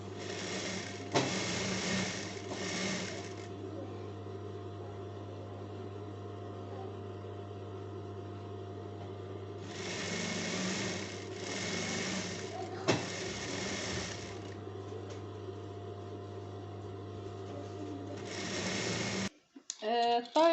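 A domestic sewing machine stitches a folded fabric belt onto a Turkish-style dress in several bursts of rapid, buzzing stitching, separated by pauses filled with a low steady hum and occasional handling knocks.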